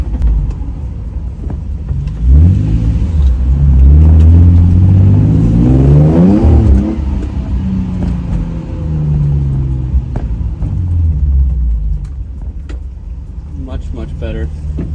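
A Nissan 350Z engine runs after a fuel injector swap, revving up in a loud close rise and settling back to a smooth idle rumble while someone talks over it.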